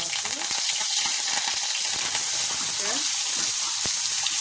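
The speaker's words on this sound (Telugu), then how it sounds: "నూనె వేడయ్యాక కొంచెం జీలకర్ర వేసుకుందాం జీలకర్ర వేడయ్యాక రెండు డ్రమ్మల కరివేపాకు" Cumin seeds and curry leaves sizzle in hot oil in a home kitchen, a steady loud crackling fry with stirring clinks throughout and no talk.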